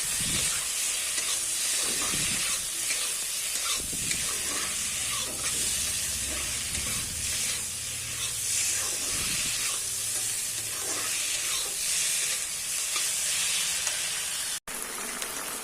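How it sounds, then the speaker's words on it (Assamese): Pieces of fish belly and head fry in a pan of hot oil, giving a steady, fairly quiet sizzling hiss with occasional soft stirring scrapes, and no voices. "মাছৰ পেটু মাথাখিনিও একেলগে ভাজি দিলোঁ"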